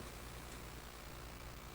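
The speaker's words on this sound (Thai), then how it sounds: "มีทั้งฝนทั้งลมเด้อ โยมพ่อโยมแม่" Steady rain with wind at a temple in Thailand, a soft, even hiss with no break and no talking.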